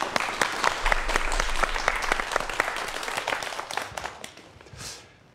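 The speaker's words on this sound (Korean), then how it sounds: "자 그럼 다시 한번 박수 부탁드릴게요." Lecture-hall audience applause fills the room with dense, steady clapping that holds for several seconds, then thins and fades out near the end.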